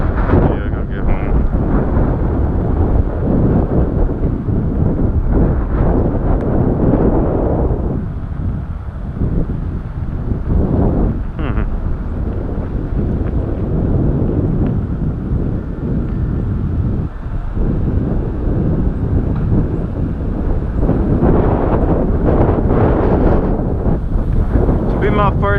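Strong gusty wind roars over the microphone throughout while riding a modified Ecotric e-bike on a windy commute, loud and continuous, with a voice faintly under it at times.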